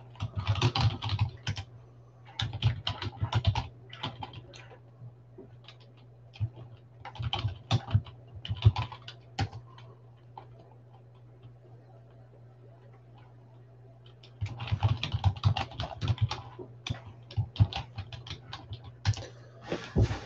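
Bursts of rapid keyboard typing, clicky keystrokes in clusters separated by quiet pauses, with a faint steady hum beneath.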